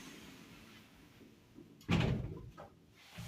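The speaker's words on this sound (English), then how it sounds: "Doors closing." Lift doors in a Bournemouth Square building slide shut with one loud rumbling thud after a quiet stretch, then a softer knock at the end.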